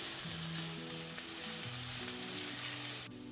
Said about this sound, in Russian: Обжариваем, помешивая еще пару минут.